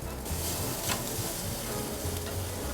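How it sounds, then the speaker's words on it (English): Chilies, red onion and tomatillos sizzle on a grill, a dense, steady crackling hiss up close with faint pops throughout and no talking. "Now let's just let the grill do the work."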